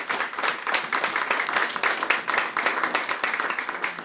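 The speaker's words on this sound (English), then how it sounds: "So my father, Michael Landavazo, give him a big round of applause." A crowd applauding steadily, dense clapping from many hands throughout, fairly loud and with no voices over it.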